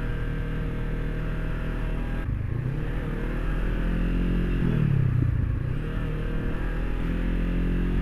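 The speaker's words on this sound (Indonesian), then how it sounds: "Suara knalpotnya, gue seneng banget nih suara knalpotnya" A Honda CB500X, a 500 cc two-cylinder motorcycle, idles with a steady exhaust drone up close and then revs twice, its pitch climbing and falling with each throttle blip.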